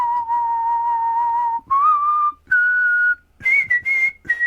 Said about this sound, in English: So I'm going to do a whistle.